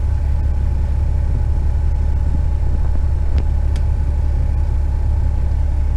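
Steady low engine rumble from a Western Star dump truck driving back to the yard, heard from inside the cab, constant and loud with no talk.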